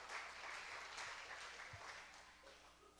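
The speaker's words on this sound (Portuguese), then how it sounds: "Aí, salva de palmas para eles" Applause from a church congregation at a couples' service, a steady wash of clapping throughout, fairly loud at first and tapering slightly toward the end.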